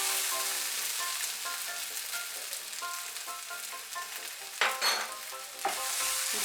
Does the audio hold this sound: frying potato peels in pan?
yes